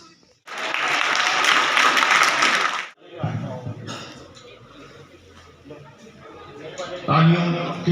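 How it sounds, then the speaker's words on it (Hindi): Students break into applause in a classroom, a dense burst of clapping lasting about two and a half seconds that stops abruptly. Talk and scattered classroom noise follow. "तालियों के गड़गड़ाहट, तो हल्की हल्की आपकी तालियां बजती रहनी चाहिए, कंटिन्यूस"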